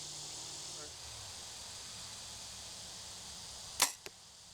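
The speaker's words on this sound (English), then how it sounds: "We're at 20 yards and we're going to shoot a field point first" An arrow with a field point flies from a bow into a target at 20 yards, heard as one sharp, close impact thump followed by a faint second knock, over a quiet outdoor background hiss.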